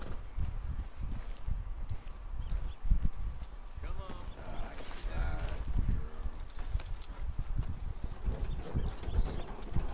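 Horse hooves clip-clop at a walking pace in the Red Dead Redemption 2 video game, a steady rhythmic clatter sitting under continuous spoken dialogue between characters.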